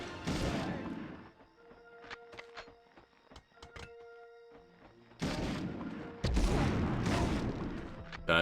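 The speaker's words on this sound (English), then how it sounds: "Guy threw a grenade at himself, more or less." A grenade goes off in the Medal of Honor video game: sharp close blasts and thuds, a quieter gap of scattered clicks and hits, then more heavy explosions that roll loudly to the end.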